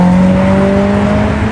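A BMW X3M at a Las Vegas car meet, its clutch slipped while accelerating: a loud, steady engine drone with rising tones, close by and sustained throughout.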